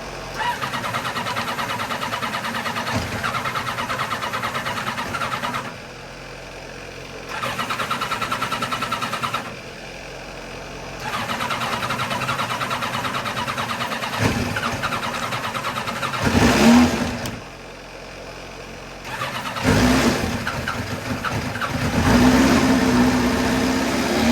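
Ducati motorcycle engine cranking and catching several times, running in bursts with revs and idle between short pauses, close and fairly loud.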